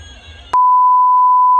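A toy phone lets out a single loud, steady electronic beep lasting about a second after its button is pressed, following faint indoor background noise and ending abruptly.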